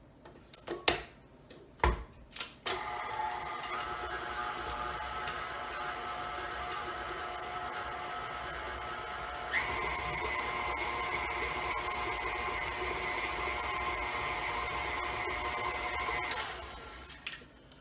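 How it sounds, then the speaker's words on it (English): An electric mixer beating cookie dough for chipless cookies whirs steadily after a few clicks and knocks, a constant mid-pitched motor hum that shifts higher partway through before winding down, fairly faint with no talking. "before we add the egg, we're going to mix this all up. Make it light and fluffy."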